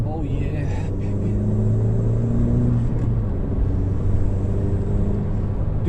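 A 10th generation Honda Civic on the move with a manual shifter, its engine a steady low rumble and road noise filling the cabin. There is no talk.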